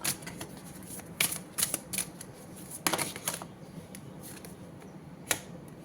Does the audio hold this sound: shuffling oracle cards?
yes